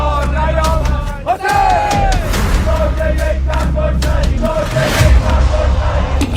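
A large crowd at a funeral procession chants slogans in unison, loud and rhythmic with repeated shouted phrases and swelling roars, dense and continuous throughout.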